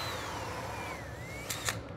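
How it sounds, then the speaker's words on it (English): A power drill runs steadily while being pushed through a piece of glass in a glass art workshop, a continuous whine with a slowly wavering pitch followed by two brief sharp bursts near the end. "getting out the drill"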